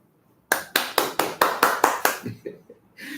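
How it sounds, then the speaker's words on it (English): A game show audience claps on cue: about eight sharp, loud claps in a quick, even rhythm, then a few softer scattered ones and a brief burst of noise at the end. "I thought you were going to clap. Clap."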